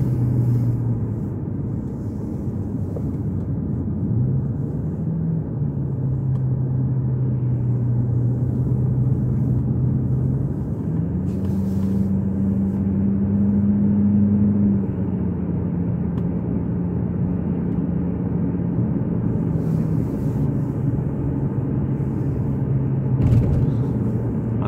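A Mercedes CL500 with the ABC suspension system and a steering fluid leak cruises along a road, giving a steady low engine drone and road rumble that rises and falls slightly in pitch as it changes speed, with no talk.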